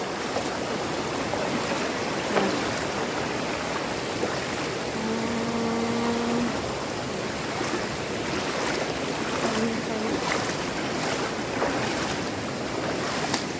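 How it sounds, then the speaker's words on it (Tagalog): Broadband rushing water from a river being waded across near a cave and waterfalls, steady and close throughout, with brief tonal hums and faint scrapes mixed into the flow. "Tumawid kami ng ilog para mahugasan ng lapok,"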